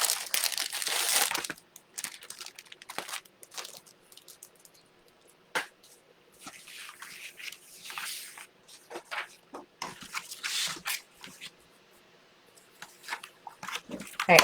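A plastic package of foam stickers crinkles and crackles in repeated close bursts, loud at the start and again midway, with quieter rustling between.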